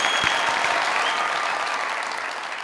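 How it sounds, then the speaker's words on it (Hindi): A studio audience at a comedy talk show claps loudly and steadily, a dense continuous burst of applause that slowly eases off. "ताली बजा के पूछो।"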